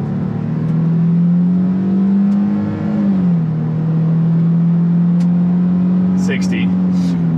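A 2022 Nissan Frontier Pro-4X pickup launches at full throttle uphill with its tires spinning. A loud, steady engine drone holds nearly constant pitch, dipping briefly midway before settling again, heard from inside the cab.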